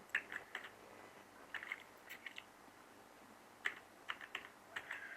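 Quiet, irregular clicking of keys on a computer keyboard as a radio station ID is typed in, with scattered bursts of taps separated by short pauses and no speech.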